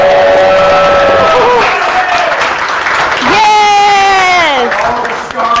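Steady applause from a crowd fills the whole stretch, with sustained tonal sounds and voices layered over the clapping.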